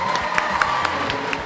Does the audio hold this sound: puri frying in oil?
no